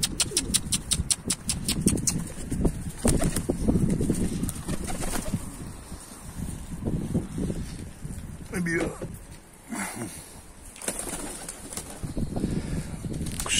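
Pigeons cooing and flapping their wings near a coop, with bursts of wingbeats and soft coos mixed under someone talking throughout.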